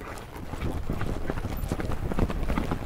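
Horse hooves pound the ground during team roping at a rodeo, a fast, close, continuous drumming of thuds with dust-like noise throughout.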